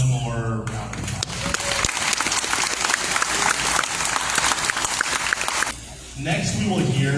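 Audience applause for school board and city council candidates at a Liberty Hill candidate forum, a dense burst of clapping from a nearby crowd that holds steady for several seconds, dips briefly and then picks up again.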